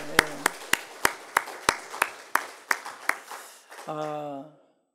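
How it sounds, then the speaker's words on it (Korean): About a dozen sharp, evenly spaced claps in a steady beat in a church, ending with a brief sustained tone. "우리 한번 박수로 영광을 돌립시다."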